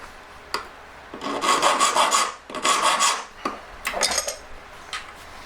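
A small jewellery-making tool is sharpened by hand, rotated against a file in repeated close rasping strokes, with four bursts of gritty filing separated by short pauses.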